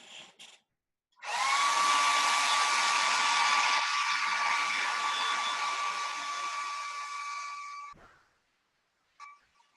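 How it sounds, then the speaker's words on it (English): A blow dryer dries paint on a Christmas ornament: a loud, steady whirring blast runs for about seven seconds, then cuts off, with brief handling noises before and after. "I'm gonna zap that with the blow dryer"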